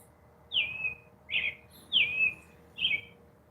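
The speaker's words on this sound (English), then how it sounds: "I definitely want to find out what bird that is." An unidentified bird sings outdoors around 5:20, four clear, bright whistled chirps spaced roughly evenly, each a short descending note, standing alone over a quiet background.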